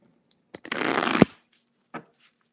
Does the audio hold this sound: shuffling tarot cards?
yes